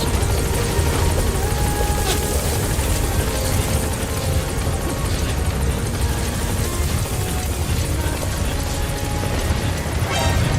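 A support helicopter arriving in Metal Gear Solid V, its rotor and engine a dense, steady roar that fills the whole stretch at close range with no let-up.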